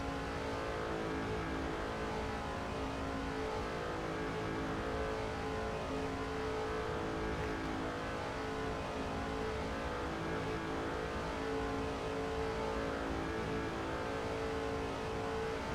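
Race cars in a NASCAR 06 game recreation of the 2005 Budweiser Shootout, a dense, continuous engine drone from the pack that holds steady and loud throughout with no gaps.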